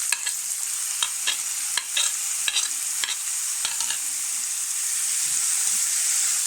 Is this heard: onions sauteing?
yes